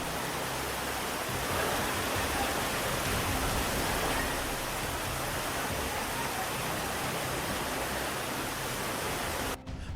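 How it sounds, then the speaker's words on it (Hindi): Fast-moving flood water after heavy rain rushes in a loud, steady roar that carries a car away, a dense broadband wash that holds constant for the whole stretch before cutting off abruptly at the end. "तेज धार में बह गई कार।"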